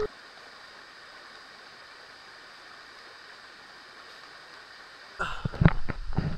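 A steady rush of a river waterfall at Wawa Dam, Montalban, roars evenly from start to finish, joined near the end by a sudden burst of louder splashing and movement.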